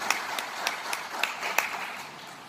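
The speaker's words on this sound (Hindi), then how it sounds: "एक बार तहे दिल से तालियां बजा दीजिए" A seminar audience in Sri Ganganagar, Rajasthan, applauds with sparse, scattered claps. The clapping is fairly faint, a handful of distinct hand claps spread over a couple of seconds rather than a full ovation.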